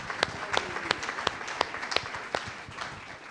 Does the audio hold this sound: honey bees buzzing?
no